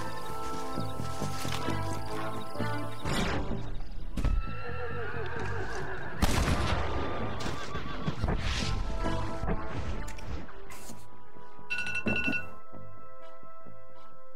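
Horses neigh and whinny in Red Dead Redemption, with clip-clop hooves, crashes and game music layered over a busy, continuous soundscape; several loud whinnies stand out.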